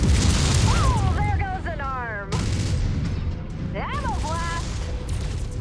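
Heavy mech weapons in MechWarrior 5: Mercenaries fire in rough, booming bursts and crackling volleys during arena combat, with someone talking over the barrage.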